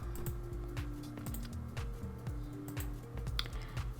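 A computer mouse and keyboard sound up close at a desk during drawing work in Illustrator, giving a quick, irregular run of small plastic clicks and taps over a faint electronic hum.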